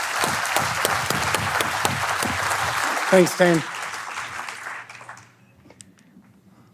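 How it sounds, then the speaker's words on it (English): A conference audience bursts into sustained, dense applause welcoming a designer to the stage at a 2022 Design in 7 event. It fades out after about five seconds, and someone speaks briefly near the end. "Please, a big round of applause,"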